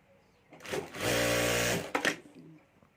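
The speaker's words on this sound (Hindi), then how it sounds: "और अब यहाँ साइड में भी हमें सिलाई कर देनी है।" A sewing machine stitches the side of a clutch bag pocket in one steady whirring run of about a second, starting and stopping abruptly, close and loud against a quiet room.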